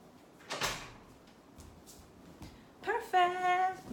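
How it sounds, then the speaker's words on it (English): A door being locked from inside a room: a brief clunk and rattle near the start, then a few small clicks, followed by a voice speaking over the last second. "I'm going to lock the door so that our space isn't infiltrated."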